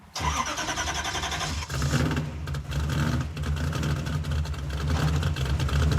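A 1957 Glass Craft car with a straight-cut transmission drives in gear, its engine running steadily close by with a constant low drone and a brief dip partway through, no voices over it.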